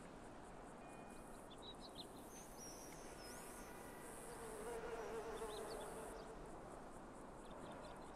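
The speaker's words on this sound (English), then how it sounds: "Big horse flies buzzing around my ear." Big horse flies buzz around the ear on a golf outing in Grand Theft Auto V, a close, steady droning hum that persists throughout over faint outdoor chirps.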